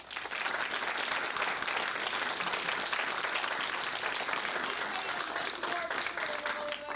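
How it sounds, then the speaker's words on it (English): Steady, dense applause from an audience at a talk on Ferguson, faith and democracy, loud and continuous throughout with no pauses. "So I want everyone to give her a real round of applause."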